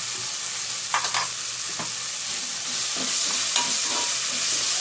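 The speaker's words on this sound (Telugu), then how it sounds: "అల్లం తెల్లగడ్డ పేస్ట్ వేస్తున్నాను ఒక రెండు స్పూన్లు" Ginger garlic paste frying with softened tomatoes in a pan for a prawn curry, a loud steady sizzle close by with spoon stirring scrapes scattered through it.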